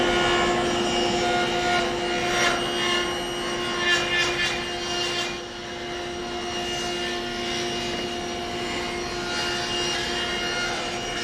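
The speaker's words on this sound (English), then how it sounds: "that just makes the ripping operation a little bit easier when making these bevel cuts" A table saw fitted with a feather board ripping a bevel cut in wood for a Mission-style bed, a steady loud whine with a whirring hum held through the cut.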